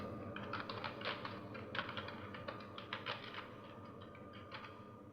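Steady typing on a computer keyboard while writing text in a Microsoft Word document, a dense run of close, light key clicks with small pauses and no voice over it.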